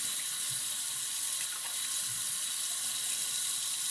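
Water runs steadily from a tap during rinsing, a continuous close hiss of flow with faint splashes and no voices.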